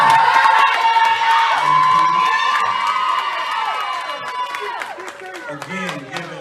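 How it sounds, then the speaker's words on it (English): A banquet crowd of adults and children cheers, whoops and claps for community coaches at a Stone Mountain high school fall sports banquet, with loud overlapping shouts and voices filling the room throughout. "I also want to give a big, big round of applause to our community coaches."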